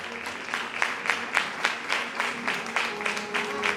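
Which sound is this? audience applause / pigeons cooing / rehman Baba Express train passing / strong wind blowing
audience applause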